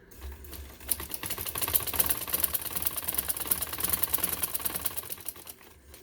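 A sewing machine runs steadily while stitching a daman seam on a garment, with a fast, even mechanical chatter that starts after a brief pause and holds for several seconds at close range, with no talking.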